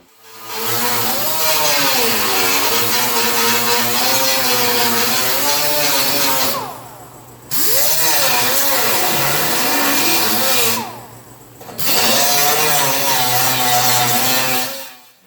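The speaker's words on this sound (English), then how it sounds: "so I'm going to do a little grinding stone" A grinding stone works on the metal body of a rusty old car, three long loud rasping bursts with pitch wavering under load and short pauses between, close up and without talk.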